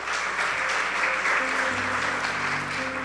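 Dense applause from a church congregation fills the whole stretch, a steady wash of many hands clapping at even loudness, with a faint musical hum beneath it.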